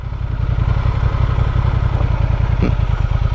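A 2023 Honda Transalp XL750 motorcycle idles and chugs at low speed during a slow turn, a close, steady, pulsing engine note with light clatter and no talk.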